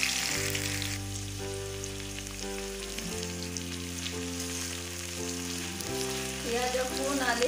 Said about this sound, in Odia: ଦେଖନ୍ତୁ ତେଲ ଗରମ ହେଇଯାଇଛି, ଏବେ ପିଆଜ କଟା ଦେବା।